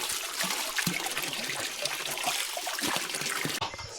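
Water trickles steadily from a small forest dam of wood through a channel made of tree bark, a close, continuous dribbling wash.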